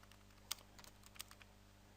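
Light, irregular tapping on a computer keyboard, with a few sharper keystrokes standing out. It is close and quiet over a low electrical hum, and no one speaks.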